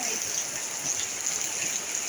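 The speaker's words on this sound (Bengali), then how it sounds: "এখানে তো অনেক বৃষ্টি বলতে গেলে এখানে অনেকই বৃষ্টি।" Heavy rain pouring down outdoors, a steady, even wash of hiss with no breaks, moderately quiet and continuous over the short stretch.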